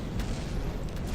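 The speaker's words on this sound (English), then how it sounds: "Massive explosion there." An explosion in the video game From The Depths, a brief, heavy, low booming rumble with a couple of sharper bursts in the noise.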